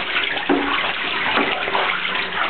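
Pet ducks splash and wash in shallow bathwater, a steady close wet sloshing and dribbling that runs without pause, with no voices heard.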